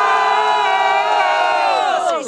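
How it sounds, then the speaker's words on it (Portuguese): A crowd at a student rap battle final cheers and shouts together in a loud, sustained roar that fades briefly at the close. "Barulhos, barulhos pra quem gostou das rimas do JB"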